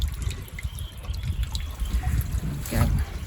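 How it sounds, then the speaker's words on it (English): Water siphoning from a full tank into another on a smallholding, a steady close trickle and gurgle with a brief splashing surge near the end. "so the water can be siphoned from this tank, which is full, to that tank"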